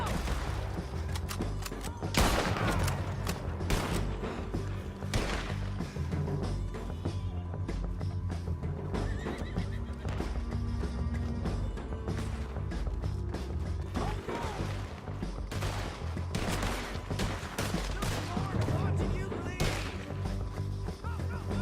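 Dense bursts of gunfire in a Red Dead Redemption 2 shootout, sharp cracks and volleys stacking over a constant loud battle din, with no pause throughout.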